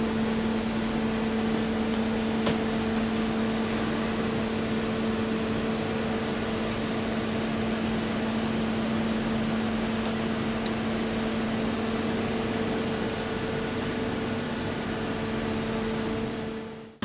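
A scanning electron microscope (SEM) machine runs with a steady, even mechanical hum and a constant tonal drone, unchanging throughout until it cuts off at the end.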